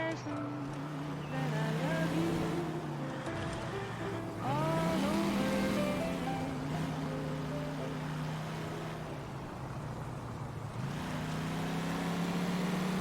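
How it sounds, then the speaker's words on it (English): A car engine in the video game L.A. Noire putters and buzzes like a 2-stroke lawnmower, a thin steady drone rising and falling in pitch as it revs, moderately loud, with speech over it. "That's like a 2-stroke lawnmower."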